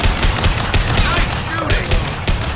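Rapid bursts of sci-fi gunfire in Mass Effect 2, dense and loud with repeated sharp broadband cracks over a rumbling battle din and no talk.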